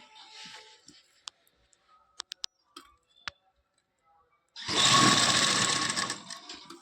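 A sewing machine stitches lace onto a dupatta, running in one steady loud buzzing burst near the end after a stretch of scattered clicks and handling taps.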